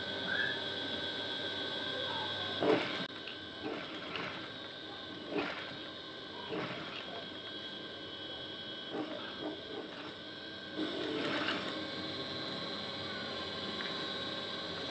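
A sewing machine stitches fabric while a patch is attached to a uniform, with short bursts of mechanical whirring separated by pauses, all over a constant electrical hum, close and moderately loud.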